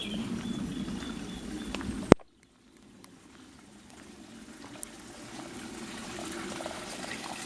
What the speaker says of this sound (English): there's a huge amount of water coming out of the spring well now.